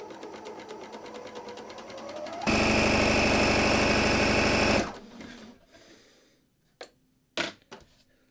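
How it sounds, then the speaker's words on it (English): A Bernina L460 serger stitches a seam in one loud, steady burst of about two and a half seconds, then cuts off into quieter handling clicks and taps. "I'm going to go ahead and serge a seam just to check to make sure everything is fine and fabulous"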